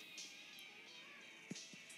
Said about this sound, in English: There's the cat again.